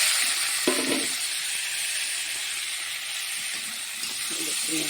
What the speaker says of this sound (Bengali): কেটে রাখা আলু বেগুন দিয়ে দেবো